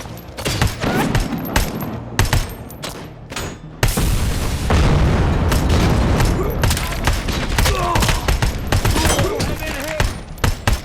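Combat in the video game RoboCop: Rogue City: a rattle of gunfire gives way to a loud, sustained grenade blast that rumbles on for several seconds amid continuing shots and debris.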